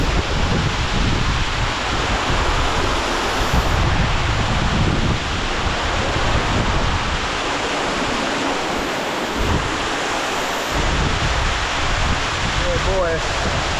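A hidden waterfall in Bali roars as a loud, constant broadband rush close by, with wind buffeting the microphone throughout.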